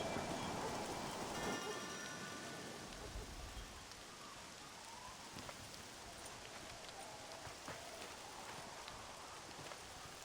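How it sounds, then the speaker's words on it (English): Steady, dense rainfall in the video game Red Dead Redemption hisses evenly throughout, with scattered louder drops and a brief low rumble near the start. "It is raining cats and dogs."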